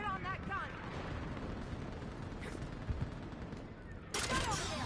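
A mounted gun fires in the Mass Effect 3 video game, a dense rattle of shots and blasts with battle noise all around, swelling into a louder burst near the end while voices shout over the fighting.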